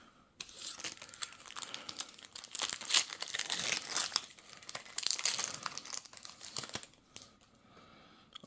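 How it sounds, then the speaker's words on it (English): A trading card booster pack for a Raidraptor deck tears open close up, with crinkling foil wrapper, sharp tearing bursts and rustling handling across the stretch before quieting near the end. "I'll open up the pack real fast."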